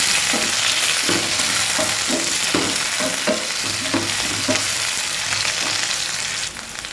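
Chopped onion sautéing in hot oil with garlic in a pan, a loud continuous sizzle with rhythmic scraping strokes of a spatula stirring throughout.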